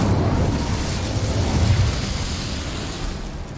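A fiery burst roars out as an Incendio fire spell is cast in Hogwarts Legacy, a loud, broad whoosh of flame that holds steady, then thins and fades over a few seconds.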